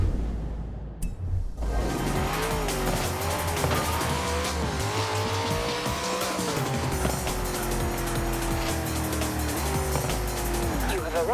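Camaro Z28 driving in Forza Horizon 4 during winter season, engine note rising and falling steadily with gear changes and brief tire squeal, loud and continuous after a short opening burst.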